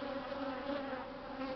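An angry swarm of bees buzzes at the hive, a dense, steady drone with a strong low hum that holds evenly throughout, close and unbroken.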